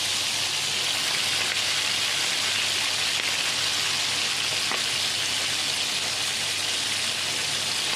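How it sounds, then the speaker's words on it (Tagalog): Dried milkfish (daing na bangus) frying in oil gives a dense, continuous sizzle and crackle at close range, steady throughout with no voices. "Ipiprito natin na siya."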